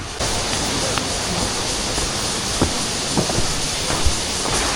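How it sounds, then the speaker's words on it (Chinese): Shuangliu Waterfall in a Pingtung forest recreation area, heard from a hiking trail as a steady, dense roar of rushing water that fills the whole clip, with a few brief knocks and faint voices. "有没有听到瀑布声？ 我们离瀑布越来越近了。"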